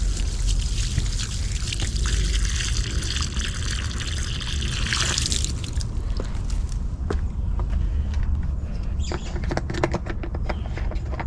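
Water poured from a jug onto organic matter, a steady close trickle and splash for about five seconds, then softer dribbling and scattered drips as it soaks in.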